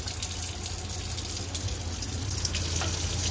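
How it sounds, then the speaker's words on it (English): Water running steadily from a public drinking fountain tap on a street in Florence, a continuous close splashing rush with no talk. "So you could bring your water bottles or you could just drink from the tap."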